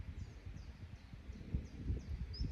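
Faint chirps of a small bird sound several times in quiet mountain air, thin and distant over a soft low rustle.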